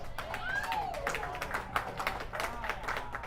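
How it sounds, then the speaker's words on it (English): Spectators clap at a men's pairs bowls match between Canada and the USA, a steady patter of applause with voices murmuring underneath. "Lots of claps here."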